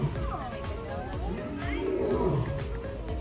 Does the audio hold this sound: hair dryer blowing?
no